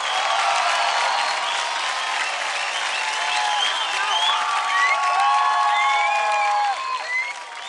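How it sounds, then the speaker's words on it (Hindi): Loud, steady applause fills the room for dance duo Abhinav and Sangeeta on the televised dance contest DID Doubles, with scattered whoops and cheers rising over the clapping throughout. "तो जोरदार तालियां हो जाए गीता की गैंग से डबल्स अभिनव और संगीता के"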